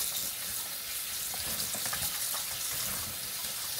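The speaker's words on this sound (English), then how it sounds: "You want to make sure you got to rinse these over here out good" Water runs steadily over pig feet as they are rinsed in a sink, a continuous splashing hiss with small irregular knocks and sloshes. No talking is heard.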